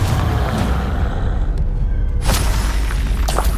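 A Confringo fire spell bursts in Hogwarts Legacy, a loud booming blast with crackling, shattering edges, repeated in quick succession over a constant rumbling low bed, with no voices.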